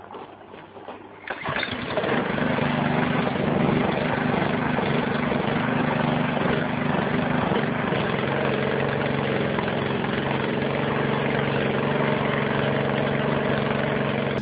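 A portable generator engine starts and then runs steadily, a loud continuous low drone with a steady hum that holds unchanged to the end, with no talking.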